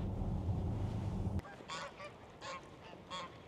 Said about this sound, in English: Geese are noisy, aren't they?